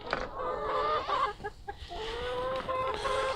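Golden Comet chickens clucking inside a coop, several overlapping close calls that run steadily with brief pauses.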